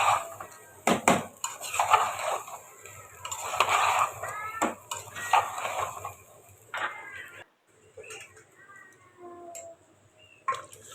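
Cumin, ginger and garlic paste stirred in a cooking pot for mutton tehri: close, intermittent scraping and clinking of a spoon against the pot in irregular bursts, fading to a few faint taps near the end.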